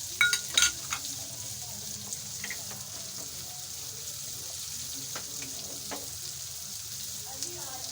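Chopped onion, carrot and capsicum are sautéed in a pan, giving a steady, moderate sizzle throughout, with a few clacking stirs near the start and some faint scrapes later.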